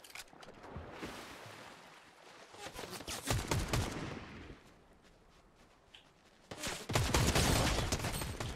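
Bursts of automatic rifle fire in the video game Fortnite, a dense rapid volley in the first half, then a pause and another loud sustained burst near the end, with no talking.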